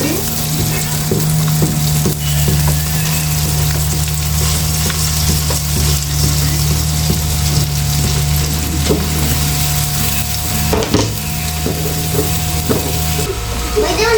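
Garlic sautés in melted butter in a pan, a loud, continuous close sizzle with occasional stirring scrapes and a steady low hum underneath throughout.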